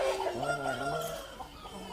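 Fighting roosters clucking close by in a short burst of rising and falling calls, loud and continuous throughout.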